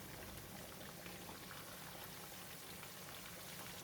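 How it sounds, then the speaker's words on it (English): Mackerel deep-frying in hot oil, the second side cooking: a steady, dense crackle and sizzle with fine popping bubbles, continuous and fairly faint, no voices. "Flip it again to fry the fish from this side for another 30 seconds."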